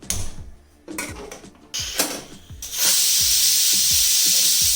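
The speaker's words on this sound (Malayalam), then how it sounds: "കുക്കറിലാണ് വേവിക്കുന്നത്. ഒറ്റ വിസിൽ വന്നാൽ മതി." Steam from a pressure cooker holding soaked beans surges into a loud, steady hiss after a few seconds of mechanical rattling and clattering nearby.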